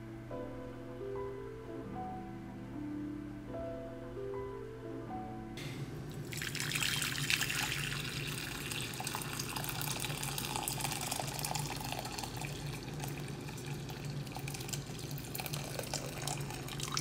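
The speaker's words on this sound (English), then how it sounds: "boil some water and add it to a bowl and then let the noodles soak in." Boiling water is poured into a bowl to soak rice noodles for vegan pad thai. After a quiet start, a steady, close, continuous splashing pour sets in and runs to the end.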